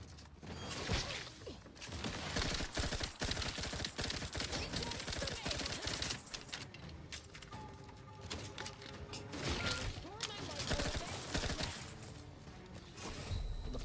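Rapid bursts of gunfire in a video game, aimed at the player, crackling loud and continuous through the whole stretch alongside mechanical clanks and crashes.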